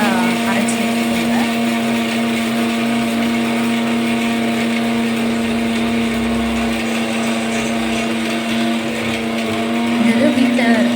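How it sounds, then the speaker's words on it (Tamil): Mixer grinder powdering almonds for a homemade baby health mix, a loud steady motor whir with a strong hum running through the clip and a brief rattling change near the end. "இப்போது இதை வந்து நல்லா பவுட்ரு பண்ணி எடுத்துக்கிறேன்"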